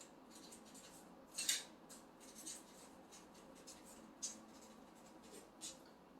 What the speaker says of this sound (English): I'm going to write a nice little petition here with my name on it and what I want this bottle to do